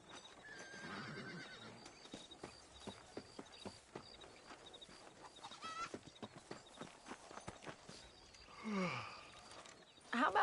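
Horse hooves clip-clop at a steady walking rhythm in the Red Dead Redemption video game, close and moderately loud, with a whinny near the end.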